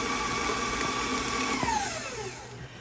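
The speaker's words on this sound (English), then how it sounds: "we're gonna mix that up again really well" An electric hand mixer whirs steadily through banana bread batter with a big teaspoon of vanilla added, a continuous buzzing motor drone whose pitch slides downward near the end as it slows.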